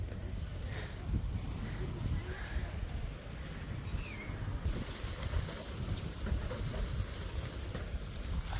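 Strong wind blows outdoors in rainy, stormy village weather, a steady rushing roar with low rumbling buffeting across the microphone throughout.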